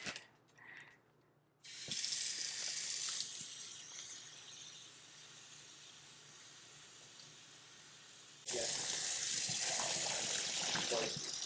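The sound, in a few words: pouring water into a bag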